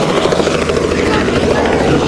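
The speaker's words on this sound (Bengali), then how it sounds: "এইমাত্র হেলিকপ্টার অবতরণ করলো" A helicopter lands at a wedding outing in Araihazar, its loud rotor thump and engine roar filling the scene steadily and close by, with strong wind noise throughout.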